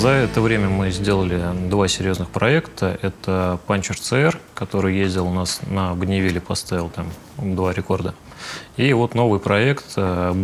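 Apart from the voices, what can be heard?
No everyday noise stands out behind the speech.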